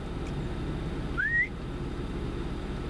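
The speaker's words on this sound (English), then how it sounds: "Whistle at him." A person outdoors near a lake gives a single short rising whistle toward a deer, thin and fairly faint over a steady low hum of passing traffic or wind.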